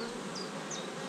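Honeybees at a hive in swarming mood give a dense, steady buzzing hum close by, with a few individual bees whining past.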